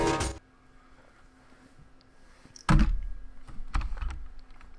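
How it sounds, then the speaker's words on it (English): Computer keyboard keys are struck in a few short, sharp bursts of typing, close and fairly loud against a quiet background, with pauses between clusters of taps. "And I keep hitting the keyboard."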